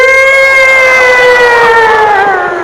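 A comedian's voice imitates an ambulance siren on stage: a loud, sustained wailing tone that glides slowly downward over about three seconds, with no speech over it.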